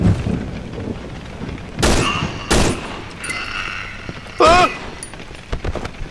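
Gunshots in the co-op horror video game Cry of Fear, three loud sharp blasts spaced a second or two apart, with a voice shouting in between and lighter noises trailing after.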